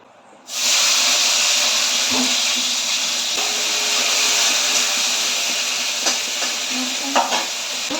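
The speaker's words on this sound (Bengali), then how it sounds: "আমি এবার একটু তেল দিয়ে দেবো, দিয়ে চিংড়ি মাছগুলো হালকা করে ভেজে নেব" Shrimp fry lightly in hot oil, the sizzle bursting in abruptly and holding as a loud, steady hiss, with a few soft clicks and knocks of stirring.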